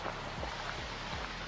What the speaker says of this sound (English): That's the sound of the fall, I guess.